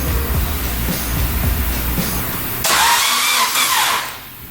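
A Honda Element with a swapped K24 engine cranks in rapid, uneven bursts for a few seconds before catching, then runs with a brief rise in revs and settles back as it fades out.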